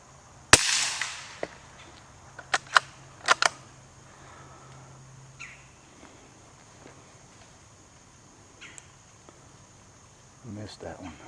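A Remington 581 .22 rifle fires once while squirrel hunting in oak woods, a sharp distant crack near the start, followed by a few scattered snaps and light rustling outdoors.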